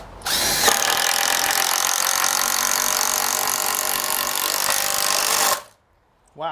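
A 14.4V Makita impact driver with a small 1.5Ah battery hammers steadily for about five seconds. It is loud and close as it drives a 5-inch Simpson Strong-Drive SDWS timber screw into dry treated pine, then stops abruptly.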